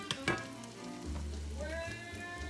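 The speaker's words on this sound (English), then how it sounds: "You're gonna let that cook a little bit. You don't want the garlic to burn." Garlic sizzles in a hot pan for a quick sauce, a steady close crackle that runs the whole time under a low hum and faint tonal background sounds.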